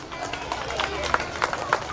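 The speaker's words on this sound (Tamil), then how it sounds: "கரகோஷம் எழுப்பவும்." A crowd applauds at a school anniversary function as a teacher is called to the stage, the clapping brisk and continuous with a few sharper peaks, mixed with background voices.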